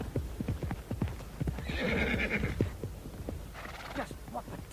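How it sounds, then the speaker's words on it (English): Horse hooves clip-clop steadily in a radio drama scene, with a loud whinny partway through and a second neigh near the end, all under agitated overlapping shouting voices. "Rein in that horse!"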